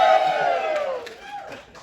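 A spoken word performance audience gives a short burst of cheering and whooping that fades out over a couple of seconds, fairly loud and close, with a voice rising above the crowd noise.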